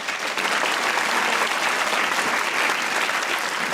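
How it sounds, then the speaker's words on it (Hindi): Studio audience of a Pakistani comedy talk show gives a Pakistani actress a sustained wash of loud, even applause that continues throughout without pause. "तालियां बजाइए सुम्बुल के लिए"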